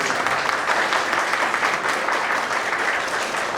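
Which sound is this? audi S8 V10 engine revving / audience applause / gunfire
audience applause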